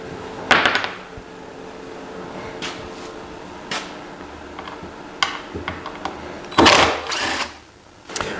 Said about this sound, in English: What I'm doing here is countersinking where the bolt's going to go through